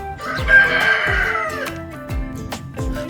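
A rooster on a farm crows loudly and near, one long drawn-out call, followed by a few short clucks and scattered clucking sounds.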